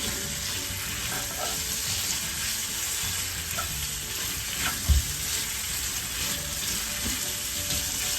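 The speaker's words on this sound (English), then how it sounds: "So we're gonna let this onion cook for about another minute or so" Chopped onions fry in oil in a pan, a steady bright sizzle and hiss with soft stirring scrapes and a sharp knock near the middle, heard alone without talk.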